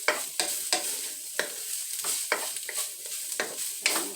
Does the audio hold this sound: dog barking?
no